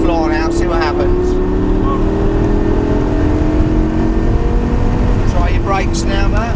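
A Lamborghini LP560-4 engine drones loudly and steadily under full throttle, its pitch creeping upward, with someone talking over it at intervals.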